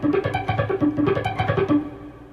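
Electric guitar strings muted by the fretting hand while only the right hand picks, giving a steady, fast run of dull, percussive plucks with faint pitch, close and alone.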